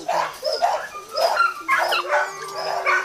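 Poodle puppies yip and bark in quick, high-pitched bursts close by, with whimpers mixed in and a low hum underneath throughout.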